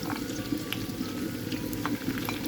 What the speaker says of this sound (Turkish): Hemen soğanlarımızı ve biberlerimizi ilave edelim.